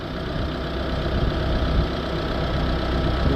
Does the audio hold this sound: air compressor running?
yes